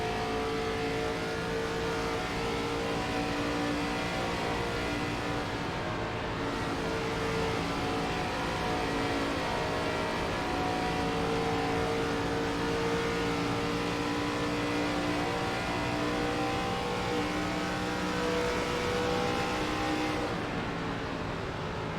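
Race car engine from a racing video game at Texas, a steady loud drone held at high revs in third gear, sustained throughout with a small dip in the middle, no talking.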